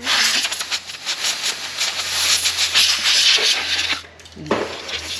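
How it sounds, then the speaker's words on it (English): Compressed air from an air compressor blasting in a loud, continuous hiss with uneven surges, briefly cutting out near the end before resuming, close to the microphone during work on a Polaris RZR-style Z-Force 800 side-by-side. "We have a compressor with compressed air."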